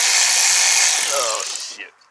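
A ratchet turns a 12-point socket on a thermostat bolt of a 2007 Saturn Aura, a close, brisk clicking burst that fades out within two seconds.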